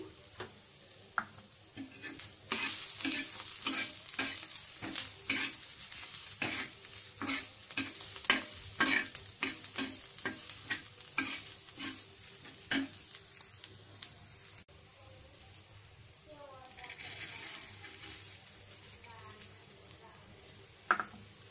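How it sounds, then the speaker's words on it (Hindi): Sprouted moth bean and mung bean mix fries with onion in a pan, rapid rhythmic spoon scrapes over a steady sizzle, then slower stirring later, with someone talking at times. "आणि आता हलवून घेऊया थोडं"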